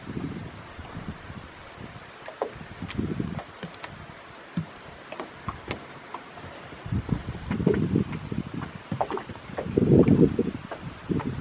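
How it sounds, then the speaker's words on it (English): Wind gusting over Heart Lake near Sitka, Alaska, with a steady low rush that swells in bursts, strongest toward the end, along with some rustling and faint water sounds. "The wind's starting to pick up"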